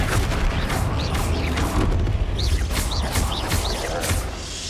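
Flipendo spell cast in the Hogwarts Legacy video game, a loud booming magical blast with rising whooshy tones, set within a dense, noisy stretch of combat effects.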